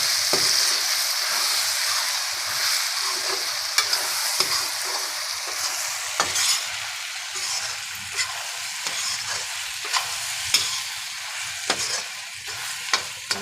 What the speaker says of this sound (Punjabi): ਹੁਣ ਇਹਨੂੰ ਆਪਾਂ ਚੰਗੀ ਤਰ੍ਹਾਂ ਹਿਲਾ ਦਈਏ